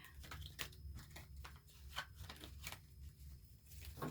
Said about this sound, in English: let's just shuffle extra good and make sure we're getting fresh messages for pile 3